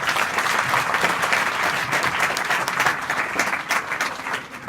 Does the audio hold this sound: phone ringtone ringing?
no